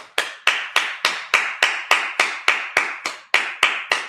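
A single person claps during a Sabbath service, about fourteen sharp, close hand claps at a steady, even pace with clear silence between each one.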